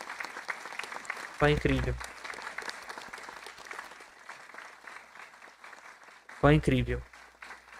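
Applause during live coverage of the Hakuto-R M1 moon landing attempt, a continuous low wash of clapping broken twice by a voice speaking briefly over it.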